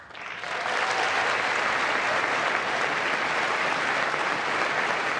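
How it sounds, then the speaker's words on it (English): A chamber full of people applauds during the State of the Union address, a loud sustained roar of clapping that swells in quickly and holds steady. "I think it's too early for an applause yet, okay?"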